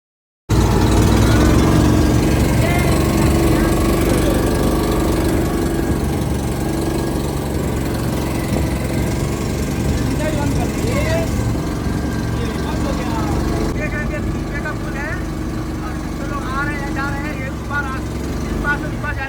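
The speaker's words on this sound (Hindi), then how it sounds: "नाव की सवारी कराते हैं" A motor boat on the Ganges at the Ramnagariya fair in Farrukhabad, its engine droning steadily and close throughout, with a bustling crowd of voices and chatter layered over the motor.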